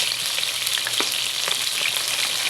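Close, continuous sizzling of grouper frying in hot oil, with small pops and crackles breaking through the steady hiss.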